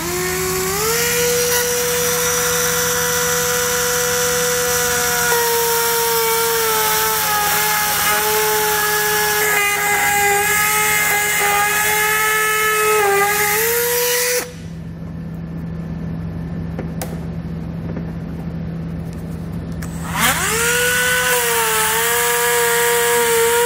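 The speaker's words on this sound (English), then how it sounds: "I'm gonna be using a rotary tool just so I can cut it out real quick and make some nice clean cuts." A rotary tool cuts during a trailer hitch installation on a 2020 Chevrolet, a loud, steady high-pitched whine that pauses briefly and then resumes, over a constant low hum.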